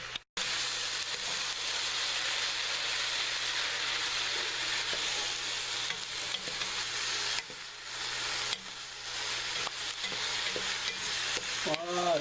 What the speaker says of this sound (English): go and stir the onions until they become caramelized